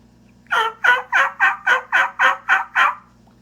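A raspy diaphragm turkey call imitating an old cackling hen gives nine evenly spaced, hoarse yelping notes in a quick steady rhythm, close and clear over a faint low hum, with no voices.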